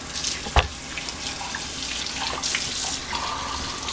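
Brand-new jam jars rinsed under a running kitchen tap after washing in hot soapy water, a steady hiss of flowing water with a sharp clink of glass near the start and splashy shifts as the jars move.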